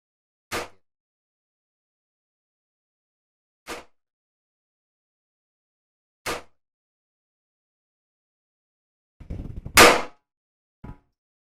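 A Ruger LCP II pistol chambered in .22LR fires isolated sharp cracks: three single shots spaced a few seconds apart, then a pair close together near the end, with silence between.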